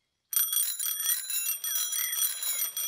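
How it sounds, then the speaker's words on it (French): A cartoon bicycle fitted with two bells rings in rapid repeated metallic trills, bright and close, continuing for a few seconds without talk. "À présent, le vélo de Freddy est équipé de 2 sonnettes."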